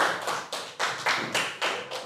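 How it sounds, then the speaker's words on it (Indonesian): A classroom of students claps for a pupil who read a hadith aloud, a short burst of bright, evenly spaced hand claps, about eight of them, close and fairly soft. "Ya, kasih tepuk tangan buat Akila,"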